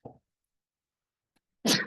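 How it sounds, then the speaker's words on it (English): A brief faint noise, a pause of near silence, then one sharp, loud sneeze close to the microphone. "Sorry, a sneeze"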